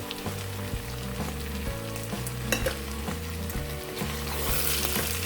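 A nearly finished curry being stirred in a frying pan while clove and cardamom powder go in: a close, steady sizzle with repeated scraping strokes and a low tonal hum underneath.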